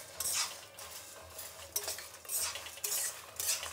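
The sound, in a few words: stirring and frying urad dal, chana dal, curry leaves in pan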